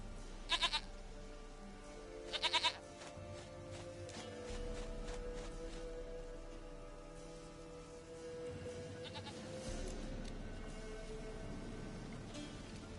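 Goat bleating from The Witcher 3, two quick wavering bleats near the start followed by a softer third, set over a low game ambience of music and background hum.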